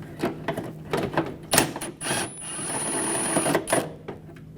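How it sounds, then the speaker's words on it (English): A 10mm socket wrench ratchets nuts out on a 2004-2009 Audi A4 during radiator and condenser fan assembly work, making rapid close clicking bursts with a brief high whine in the middle, no speech. "Using my 10mm socket."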